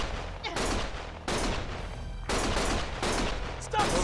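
Loud bursts of sustained gunfire in the video game Lost Judgment, several heavy volleys of automatic shots separated by brief gaps, close and dominant.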